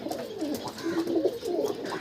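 Pakistani teddy pigeons in a loft coo steadily in soft, overlapping low calls, with several birds sounding close by and no talk.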